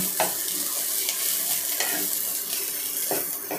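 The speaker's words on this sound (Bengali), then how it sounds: "আর কিছুটা কুচনো ধনেপাতা দিয়ে ভালোভাবে এটাকে এর সাথে কষে নেব।" Sandwich filling with chopped coriander is stirred and sautéed in a pan, a continuous loud sizzle with scraping spatula strokes recurring roughly every second.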